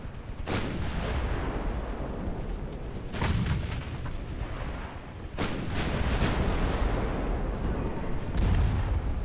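Naval guns firing at an enemy ship in the game Ultimate Admiral Dreadnoughts, heavy booming salvos at irregular intervals over a rumbling background.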